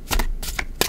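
Large tarot cards shuffled close up in two or three quick riffling bursts, crisp papery slides over about a second.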